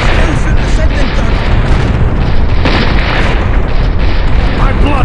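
An outpost being blown up in the strategy game Empire Earth 2, a loud, dense rumbling barrage of booms and blasts filling the whole stretch with no letup.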